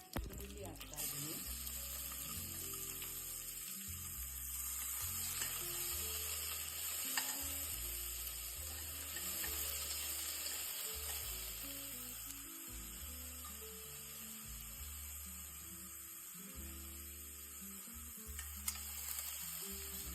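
Onion sliding into hot oil with mustard seeds, garlic and curry leaves, a steady close sizzle running throughout over a low background hum and music, with no voices in the mix.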